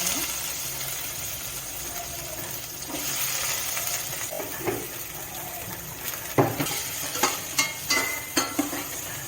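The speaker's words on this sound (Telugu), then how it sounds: "ఇప్పుడు ఆనియన్స్ వేసుకుంటున్నాను" Chopped onions being added to hot oil with mustard seeds, cumin and a little cinnamon, a low steady sizzle with a series of louder stirring scrapes and clatters toward the end.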